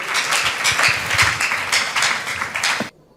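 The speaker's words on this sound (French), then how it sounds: "Est-ce qu'on peut applaudir très fort pour l'archevêque, s'il vous plaît, mesdames et messieurs?" An audience applauds Archbishop Ejiba at a gathering with young Congolese people, a dense, steady crowd clapping that cuts off abruptly near the end.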